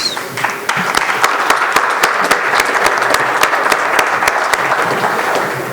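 Audience at a private security congress applauds a panel, a dense, steady burst of clapping from a large crowd with a few sharp louder claps standing out, lasting throughout.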